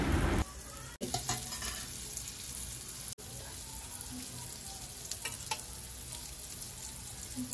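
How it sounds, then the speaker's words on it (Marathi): Prawns coated in a spice mixture frying in hot oil, a steady close sizzle running throughout with occasional stirring and faint clinks. "आता कोलंबीला एकत्र मिश्रण केलेलं लावून फ्राय करूया."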